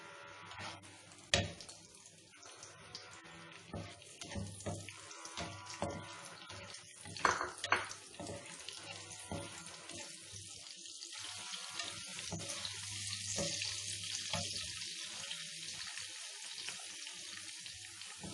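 Raisins frying in a pan for carrot halwa, a soft crackling sizzle with occasional sharp clinks and stirring scrapes, growing into a steadier hiss toward the end.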